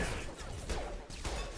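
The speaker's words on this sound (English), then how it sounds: "I don't care if I get shot at while I'm trying to do all these headshots" Gunfire in the video game Mass Effect 2, a dense, loud barrage of overlapping shots and impacts with a few sharper bursts standing out, continuous through the short stretch.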